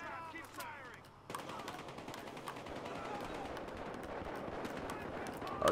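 Rapid gunfire in the Battlefield Hardline video game near a logistics center, a sustained dense volley of automatic shots that starts after a brief lull and runs continuously.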